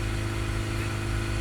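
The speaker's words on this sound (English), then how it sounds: "We'll accelerate this vehicle up, try and get it steady at just around 3000 RPM." A diesel vehicle engine with a partly blocked particulate filter is held at about 3000 RPM. It makes a steady, even, fairly quiet drone with no clear rise in pitch.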